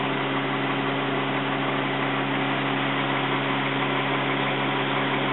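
An ozone generator runs inside a closed car, giving a steady, even machine hum with a constant drone and no change in level throughout, heard alone without talking.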